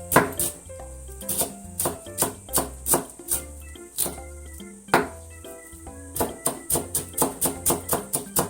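A knife mincing myoga on a cutting board, a steady run of crisp, close chops in quick regular rhythm with brief pauses between bursts, no talking.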